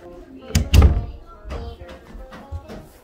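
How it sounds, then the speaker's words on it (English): A wooden door in a small house bumps shut, a short pair of low thuds followed by faint rustling as someone moves nearby. "Door."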